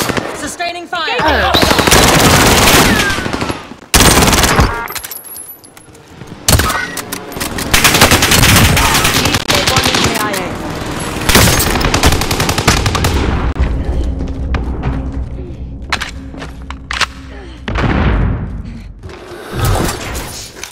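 Gunfire in Call of Duty: Modern Warfare, with dense bursts of rapid automatic fire and heavy thuds running almost continuously and loud, while players talk over the chaos.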